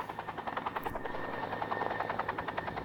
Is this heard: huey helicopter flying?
yes